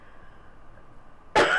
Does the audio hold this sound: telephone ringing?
no